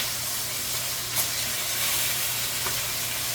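Steady sizzling of meat tenders frying in a pan, a continuous close hiss with a couple of faint pops, no talking.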